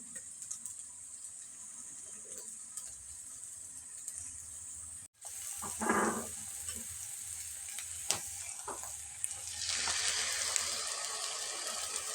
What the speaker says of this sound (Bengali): এরপর নুন চিনি দিয়ে ফেটিয়ে রাখা এই টক দইটা দিয়ে দেবো।